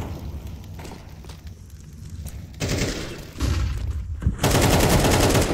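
Gunfire in the video game Counter-Strike 2, bursts of shots and rapid fire crackling in separate loud bursts over a rumbling game background.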